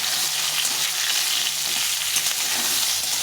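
Pumpkin pieces and other vegetables fry in a pan, a dense, even sizzle that holds close and fairly loud through a few seconds.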